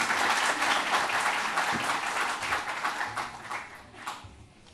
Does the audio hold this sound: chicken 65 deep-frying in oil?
no